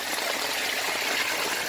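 Drainage water pours from a pump discharge line into a backyard pit, a steady, bright splashing trickle with no voices.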